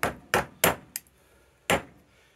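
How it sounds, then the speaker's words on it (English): A hammer strikes metal, peening over the corners of locking nut tabs during a rear end rebuild, five sharp, close, ringing blows, four in quick succession and one after a brief pause. "especially peening these corners over like so"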